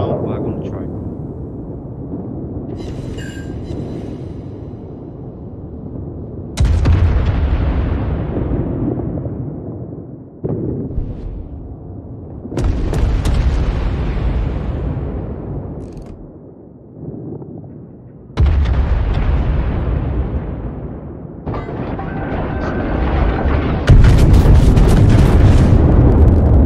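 Naval guns fire a full salvo in a warship battle game, with several heavy booms each followed by a long rumbling decay, loud and close, spaced every few seconds while voices talk over them.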